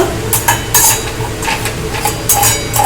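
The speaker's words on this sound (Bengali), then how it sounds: "এই গরম তেলের সঙ্গে কিন্তু এই মশলাগুলো ভালো করে নেড়ে নেব।" Spices including Kashmiri chilli powder being stirred in hot oil in a pan, with a steady loud sizzle and repeated scraping strokes of a spoon against the metal in a quick, uneven rhythm.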